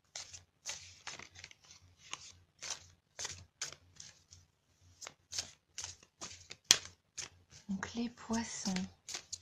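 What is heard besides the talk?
tarot cards being shuffled and drawn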